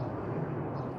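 A jet airplane taking off at Boston Logan International Airport gives a steady, loud roar of engine rumble that holds even throughout the brief moment.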